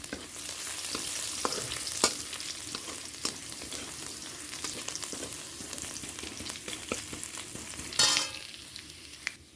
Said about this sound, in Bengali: রসুনটা দিয়ে দিচ্ছি। এই শাকটায় রসুন দিয়ে খুব ভালো হয়।